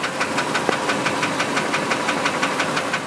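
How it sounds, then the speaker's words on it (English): A 2001 Ford F-150 XLT idles with a fault knock: a steady, rapid, evenly spaced knocking over the running engine, close and fairly loud, with no talking. "the engine is making a knocking noise"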